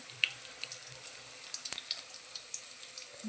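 A thin stream of tap water runs steadily while garlic is washed in a home kitchen, quiet and close, with a few light splashes and clinks.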